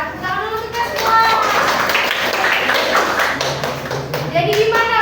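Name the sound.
class clapping hands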